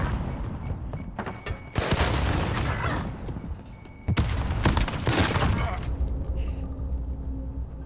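A shotgun fires in Call of Duty: Modern Warfare: two heavy booming blasts a couple of seconds apart, each trailing into a rumbling decay, with a voice talking underneath.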